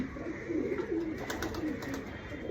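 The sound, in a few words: pigeon cooing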